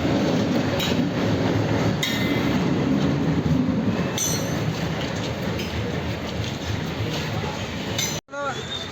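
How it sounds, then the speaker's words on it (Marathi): A passenger train arrives at a station with continuous rumbling wheels, clanking and brief high wheel squeals near the end, loud and close, with people talking on the platform. "तर पुण्याला जाण्याची ट्रेन ही पण आलेली आहे."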